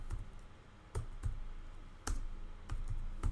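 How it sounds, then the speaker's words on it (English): Computer keyboard keys clicking in a few sparse, separate taps while a web library guide page is set up, quiet and close with steady room hiss between strokes. "How about I type in"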